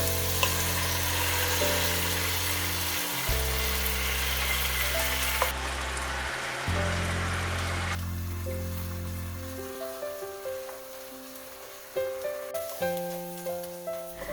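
Eggs frying in a pan with soy sauce for cauliflower fried rice, a loud continuous sizzle with stirring. Steady electronic tones, like music, play throughout.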